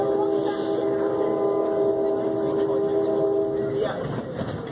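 A passing train heard from aboard a moving vehicle: a steady rumbling rush throughout, with a sustained horn-like tone that holds for several seconds and then drops away.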